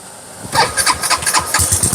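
A car engine cranks and catches after a brief moment, then runs close by with uneven, sputtering revs and a ticking noise.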